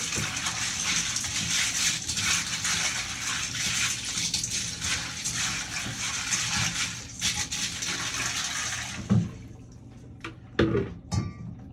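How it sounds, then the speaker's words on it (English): Water pours steadily into a bucket of Lego pieces being swished around, with a continuous rushing splash, then stops, leaving a few loose clattering knocks. "I just swish them around as I pour the water in"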